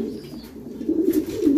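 Racing pigeons coo softly in a loft after road training, a few low, throaty rolling coos close by, swelling toward the end over quiet background.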